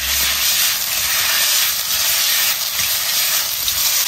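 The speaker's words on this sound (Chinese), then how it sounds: "五花肉加入锅中。" Blanched pork belly drops into a wok with a little oil and sends up a loud, unbroken hiss of frying that holds steady throughout.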